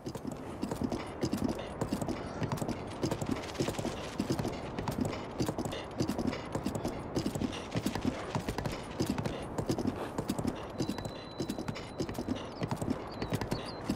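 Horse hooves in The Legend of Zelda: Breath of the Wild, a steady fast clip-clop of galloping that runs continuously at even loudness with a faint whinny-like tone near the end.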